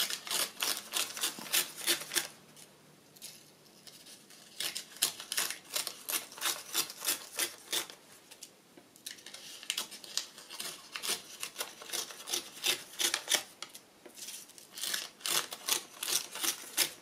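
Paper pages being torn one after another for a vintage travel journal booklet, a steady run of short, crisp rips repeating in quick bursts with brief pauses between groups, close and fairly loud with no talking.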